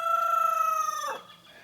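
Homestead rooster crowing nearby, a single loud sustained harmonic call that drops off sharply after about a second, heard alone.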